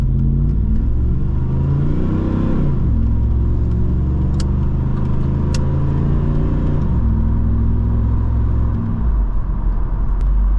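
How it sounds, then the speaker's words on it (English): A 1996 Chevrolet Camaro SS V8 rumbles loudly while driving, its revs climbing through the gears with clear drops at each shift and a deep, steady exhaust drone from the cabin. "I'm driving a Camaro."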